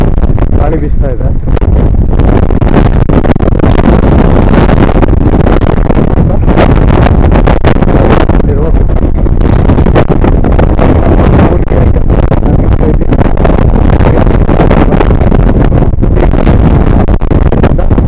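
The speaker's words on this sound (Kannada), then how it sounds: "ಗಾಳಿ ಬೀಸ್ತಾ ಇದೆ." Strong wind gusting across a hilltop on the border of Andhra, Karnataka and Tamil Nadu, roaring steadily and loudly into the microphone throughout with buffeting rumble.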